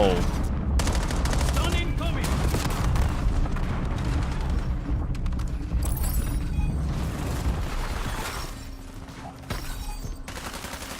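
Heavy, rapid gunfire in the Call of Duty: Black Ops 7 beta, with loud overlapping shots and bursts in a close firefight that eases slightly toward the end.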